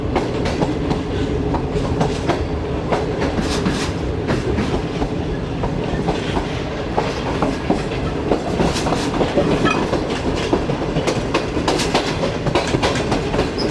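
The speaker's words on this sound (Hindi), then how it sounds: "फाइनली ट्रेन ने हमारी छोड़ दिया है मुल्तान कैंट रेलवे स्टेशन को" Shalimar Express pulling out of Multan Cantt station and gaining speed, heard from a parlour car as a loud, continuous rumble with rhythmic clickety-clack of wheels over rail joints and no talking.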